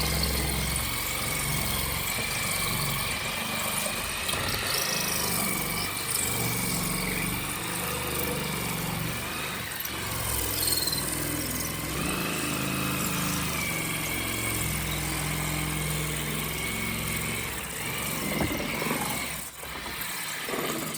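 A homemade spray foam cut-off tool runs along a window, shaving cured foam near a wall stud, its motor a continuous mid-pitched engine-like drone with steady vibration and slight wavering, close and alone.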